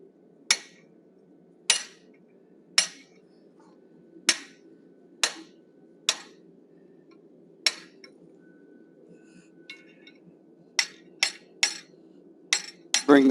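Hammer blows on hot steel using a half-inch fuller while forging a wolf head, about a dozen sharp ringing metallic strikes at an uneven pace, close and clear over faint background hum.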